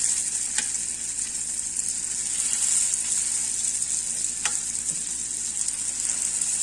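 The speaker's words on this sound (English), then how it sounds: "It's time to fry it." Lumpia egg rolls frying in hot oil make a loud, steady close-up sizzle with a bright hiss and a couple of sharp crackles and pops, no talking.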